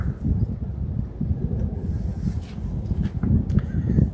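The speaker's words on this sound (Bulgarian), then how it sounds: "Вятъра се засилва, което е кофти работа." Steady low rumbling wind buffeting the microphone beside a lake while carp fishing in October, with gusts rising and falling throughout; no voices.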